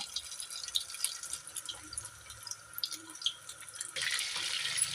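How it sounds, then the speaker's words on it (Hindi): Cornflour-coated chicken fries in hot oil with a steady, hissing crackle that swells louder near the end. "ये देखिए मेरे पास चिकन हो रहा है हमारा फ्राई"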